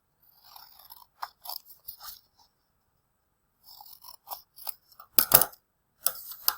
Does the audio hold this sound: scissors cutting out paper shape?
yes